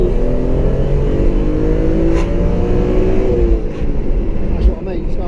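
A BMW E36 M3 engine pulls hard under full throttle, a loud, continuous rising drone heard from inside the car, with voices talking over it.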